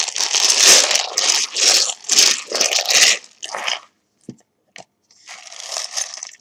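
Tarot cards being shuffled by hand, close, crisp riffling bursts in quick repeated bouts, then a pause with a couple of taps before another shuffle.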